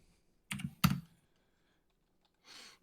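A loud mechanical computer keyboard clacks with two quick bursts of keystrokes close up, then a softer patter of typing after a pause, alone in a quiet room.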